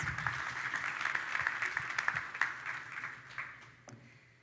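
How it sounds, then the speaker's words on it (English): Audience applause at a leadership event, a crowd of clapping hands filling the room at steady strength, then tapering off with a few scattered late claps. "So one last round of applause for our amazing sponsors."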